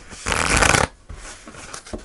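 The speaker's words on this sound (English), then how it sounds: "I'm just going to shuffle one more time." Moonology oracle cards shuffled once in a quick, close riffling burst, followed by softer handling rustles.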